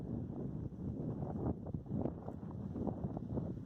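Steady, rumbling wind buffets the microphone, with gusty low-frequency roar and brief dips throughout.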